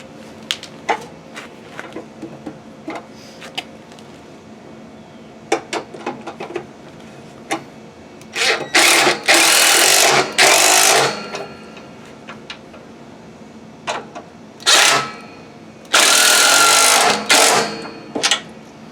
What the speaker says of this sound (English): I'm going to go get my impact real quick with the 1/2 inch on it.